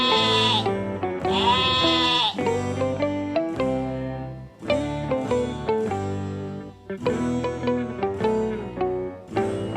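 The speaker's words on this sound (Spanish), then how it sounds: "¿Cuál es el sonido que hace la oveja?" Sheep bleat repeatedly, with long wavering calls at first and then shorter quivering ones. The voices are close and clear, with no talking.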